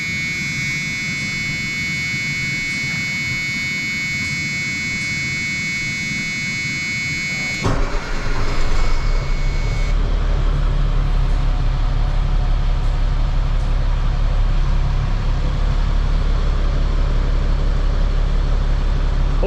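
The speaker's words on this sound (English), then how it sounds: "We'll start it up and turn it back off real quick for you guys." A truck with air ride seat and air brakes starts up with a sudden loud rumble, then settles into a steady low idle, following a long high electrical whine.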